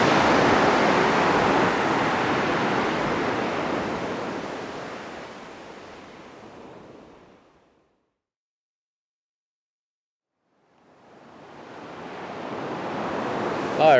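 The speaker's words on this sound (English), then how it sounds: "These might not be great waves for surfing" Big ocean waves breaking on a firmly packed beach south of Tokyo, a loud roaring wash of surf that fades to silence midway, then swells back in as the next wave crashes, with no talk.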